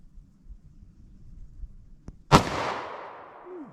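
A Ruger LCP pocket pistol fires a single .380 ACP +P round, one sharp loud crack after a quiet lead-in, followed by a short ringing decay.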